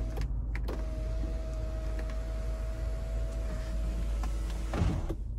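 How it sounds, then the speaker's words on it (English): Inside a 2015 Toyota RAV4 Limited, the one-touch power sunroof runs with a steady electric motor whine for several seconds over road and cabin rumble, ending in a soft thunk as it stops. "our power sunroof, which is one touch, so we can tilt or slide that."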